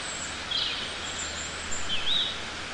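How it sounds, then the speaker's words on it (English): Faint bird chirps float over a steady hiss of forest ambience, a few brief calls standing out now and then. "So some birds there in a forest."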